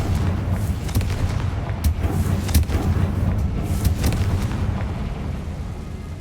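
Confringo fire spell blasts in Hogwarts Legacy, heard as a dense, rumbling explosive roar with several sharper bursts riding on a continuous loud low-end boom throughout.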